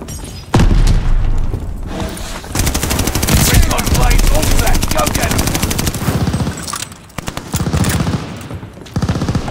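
Gunfire and a sticky bomb blast in Call of Duty Vanguard, a Hardpoint multiplayer match: rapid machine-gun bursts rattle almost nonstop, punctuated by heavy booming thuds, loud and close, with game voice lines over the action.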